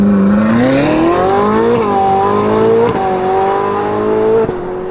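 Ferrari 458 V8 revving hard on a shakedown drive, a loud sustained engine note climbing in pitch, easing briefly and rising again through upshifts, close and continuous.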